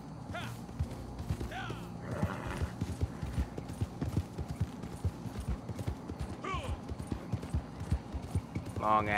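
Horse in Red Dead Online trotting with a steady clip-clop of hooves, broken by a few shrill neighs and whinnies, moderately close under a light game background.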